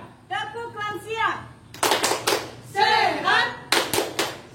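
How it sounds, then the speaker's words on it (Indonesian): An elderly-group rhythmic clapping chant at a National Family Day event: a voice calls out in short bursts, answered by groups of sharp, loud unison claps in a patterned rhythm, alternating between chant and clapping. "Tepuk lansia."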